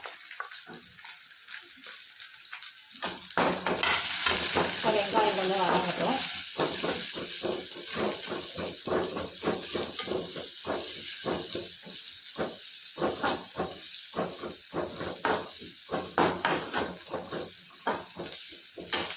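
Chopped onion dropped into hot oil in a pan, a loud close sizzle and hiss of frying with steady stirring and scraping throughout, a voice talking over it.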